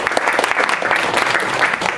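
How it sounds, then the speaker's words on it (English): Sustained audience applause at a university panel event, steady dense clapping from a crowd that fills the whole stretch without pause. "If you all could give them a round of applause."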